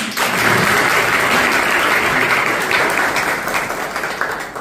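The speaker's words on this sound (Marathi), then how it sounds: "एकदा मॅडमसाठी टाळ्या वाजवा." Audience at a college lecture in Satpur, Nashik claps for the woman lecturer: a dense, steady burst of applause from many hands, loud throughout and gradually thinning toward the end, with no voices over it.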